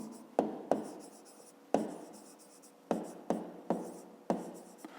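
Handwriting on paper makes about eight distinct strokes, each starting with a sharp tap and trailing off in a soft scratch, close and quiet.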